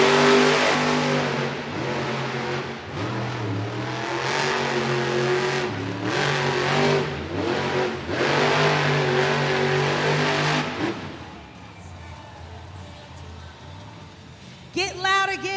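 Sparkle Smash monster truck engine in an indoor arena run, loud revving surges rising and falling for about ten seconds before dropping away, with crowd noise and announcer talk underneath.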